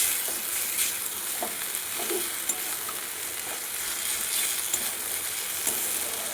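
Bitter gourd, potato and greens sizzle in a pan as sugar is stirred in, giving a steady hiss of frying under occasional soft scrapes of the spatula.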